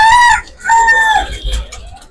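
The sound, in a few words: chickens clucking and crowing at a poultry market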